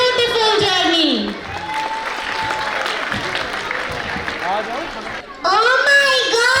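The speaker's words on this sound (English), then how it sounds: "Give a big round of applause for this beautiful journey." Audience applause at a school annual function, a broad wash of clapping from the crowd, with children's voices and music-like tones heard over it at the start and end.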